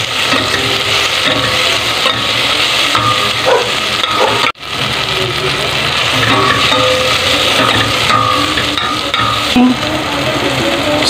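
Sliced lemongrass sizzling and being stirred in hot oil in a pot for tinola, a steady loud frying hiss with scraping stir sounds throughout and a brief dropout partway.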